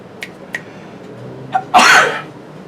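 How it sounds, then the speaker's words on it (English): A single loud, close sneeze, preceded by a few soft clicks and breaths. "My sneezes are always in threes"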